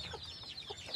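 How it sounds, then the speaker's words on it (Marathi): Hens cluck softly around a small brood of chicks near their shed, with a few quiet, scattered calls over low background noise. "आणि छोटी कोंबडीमध्ये 5 पिल्लं आहेत छिद्री."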